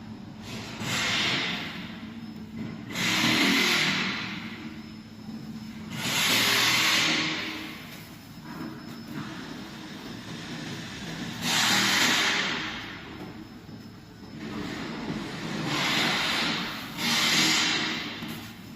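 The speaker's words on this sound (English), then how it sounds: "one button start, diesel engine, oil pump" A diesel engine drives a hydraulic press earth block brick machine with a continuous low rumble, while loud hissing bursts of hydraulic release rise and fall roughly every few seconds, close by and with no talking.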